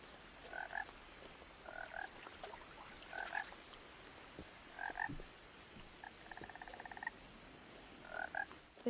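Frogs croak in a video game setting, What Remains of Edith Finch, giving short paired bursts and one rapid rattling trill over a steady outdoor ambience, moderately near and without talk.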